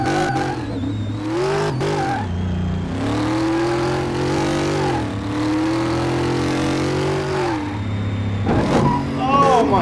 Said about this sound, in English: it keeps spinning the tires